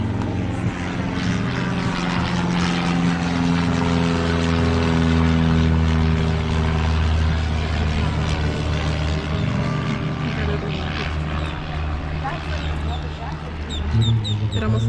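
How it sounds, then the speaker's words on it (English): A propeller airplane passes close overhead, its loud, droning engine roar filling the whole stretch and slowly shifting in pitch as it moves, with voices faintly underneath. "Look at that plane, it's really close."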